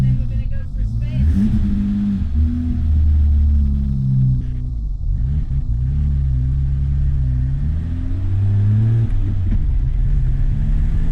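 BMW E30 engine idling while warming up, a steady close rumble with occasional small pitch shifts as voices talk over it.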